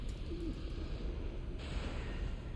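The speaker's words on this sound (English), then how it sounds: "You can hear our crow lady over there doing her normal odd noises" A crow lady NPC in Dark Souls 2: Scholar of the First Sin lets out a faint, odd cooing warble, like a pigeon, briefly rising above a constant hiss of game ambience.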